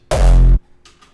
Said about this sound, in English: So it's just a frontliner kick again.